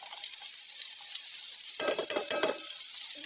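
Garlic fries in oil in a pan while cooking ginataang tilapia, giving a soft steady sizzle that swells into a louder crackling burst partway through, with a stir or clatter of the pan and no talk.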